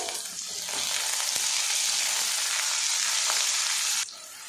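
Chopped onion and capsicum frying in a pan, a steady loud sizzle with faint stirring scrapes throughout, dropping to a quieter hiss near the end.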